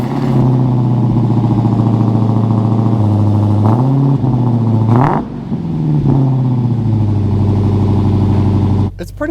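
A Dodge Challenger Hellcat Redeye Widebody Jailbreak engine drones loudly from inside the car as it accelerates, the pitch climbing and dipping through several gear changes before dropping off near the end.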